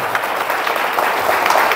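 Audience applause at a motivational gathering, a steady wash of clapping throughout, moderately loud and without a break.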